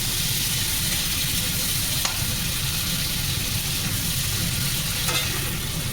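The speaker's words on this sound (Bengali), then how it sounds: "ভালো করে লাল লাল করে ভেজে নিতে হবে চিংড়িগুলোকে।" Prawns coated in turmeric and salt fry in hot oil in a kadai, a loud, dense, unbroken sizzle with a couple of faint clicks, no voices.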